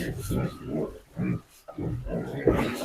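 Four pigs on a village farm grunt and snort in short, close bursts between grain and water troughs, the rough grunts coming in an uneven rhythm with brief pauses.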